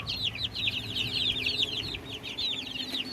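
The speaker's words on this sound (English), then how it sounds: "Happy chickens." A flock of chickens clucks continuously, a busy chorus of overlapping calls over faint background noise.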